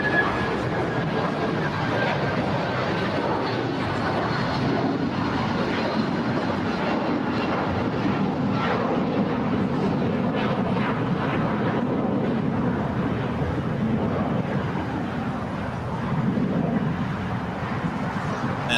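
Jet airliners taxi and depart at LAX airport, including a Korean Air Dreamliner, with a continuous broadband roar of engines that holds steady at a moderate distance throughout.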